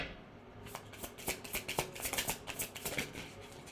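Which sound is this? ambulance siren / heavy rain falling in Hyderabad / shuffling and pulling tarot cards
shuffling and pulling tarot cards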